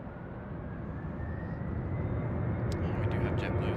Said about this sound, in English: We do have JetBlue's departure.